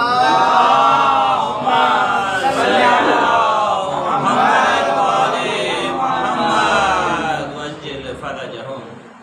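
A crowd at a religious celebration gathering in Mumbra chants the salawat slogan together, a loud, continuous swell of many voices in unison that tapers off toward the end.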